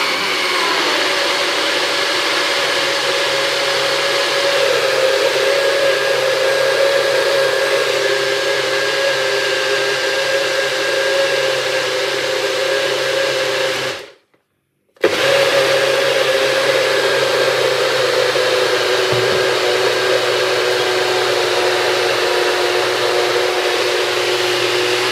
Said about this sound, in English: So that's where we're going to put our smoothie into this morning.